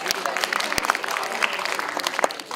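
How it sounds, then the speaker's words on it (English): Audience applause welcoming a singer onto the stage at a college media conference, a dense, steady wash of many hands clapping at moderate loudness with a few sharper claps standing out. "So, with a great round of applause, please welcome this Ziddi girl from Music World onto the stage."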